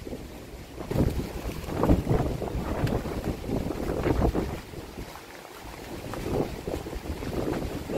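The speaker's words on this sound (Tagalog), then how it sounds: "Lakas ng hangin." Strong wind buffets the microphone outdoors in rainy weather, roaring in gusty surges that rise and fall continuously, loud and close, with no talking.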